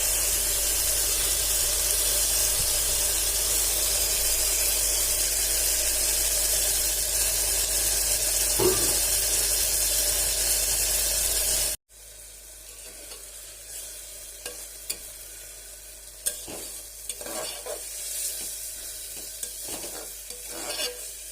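A ground paste of cumin, coriander, ginger and chili goes into a hot pan for a pressure-cooker fish dish. A loud, close, steady sizzling hiss suddenly drops to a quieter sizzle with occasional stirring scrapes.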